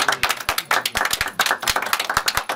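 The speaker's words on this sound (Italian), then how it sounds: "Facciamo un applauso alle nostre sexy commesse." Studio audience applauding the saleswomen on an Italian radio show, a close, uneven patter of individual hand claps that rises and falls in bursts with no talking over it.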